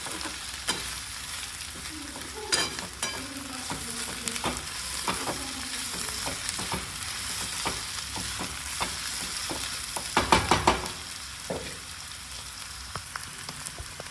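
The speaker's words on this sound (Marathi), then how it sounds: "भाज्या छान परतवून घेऊयात." Mixed vegetables stir-fried in a hot pan for homemade fried rice give a steady, close sizzle broken by scraping spatula strokes, with a louder burst of crackling midway and no talking.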